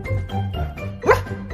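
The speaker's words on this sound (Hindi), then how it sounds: "ओए ये भौंकने की आवाज कहाँ से आई?" A single short dog bark rings out, sharp and fairly close, against a low humming background.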